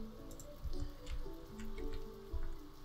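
Rain in the Stonehearth video game: soft, scattered drips and patters of falling rain at low volume, with faint tonal background music beneath.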